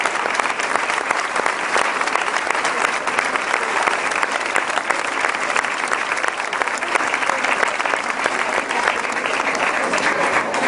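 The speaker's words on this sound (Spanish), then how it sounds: "Así que el primer aplauso se lo voy a pedir a todos ustedes para la memoria de este gran pescador." Sustained applause from a gathered audience at a memorial tribute for a fisherman, a dense, even crackle of many hands clapping that stays loud and steady for about ten seconds with no voices on top.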